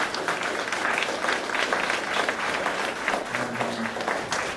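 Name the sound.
audience applause for speaker Graham Davis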